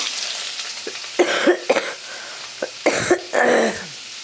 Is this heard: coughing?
yes